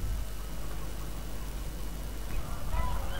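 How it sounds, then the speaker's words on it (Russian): Chickens clucking in a coop in Farming Simulator 2015, faint fowl calls over a steady hiss of ambient noise, with a few brief louder squawks near the end. "Здесь у нас курятник. Вот обычные куры"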